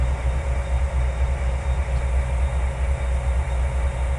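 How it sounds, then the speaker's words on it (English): A train in the Trainz 2022 simulator is brought to a stop, giving a steady low engine rumble with rail noise that holds at an even level, close and continuous, with no talk. "Stop the train."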